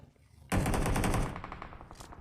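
Automatic rifle fire in the mobile battle royale game PUBG Mobile, a sudden loud rapid burst of shots that starts abruptly, holds for under a second at full intensity, then trails off with a few scattered reports.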